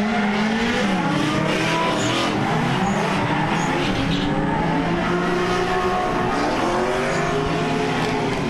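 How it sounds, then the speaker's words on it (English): Race cars roar around a track during a birthday track day at PBIR, a dense, continuous engine din at steady loudness with no break. "I think the cars are getting louder and louder."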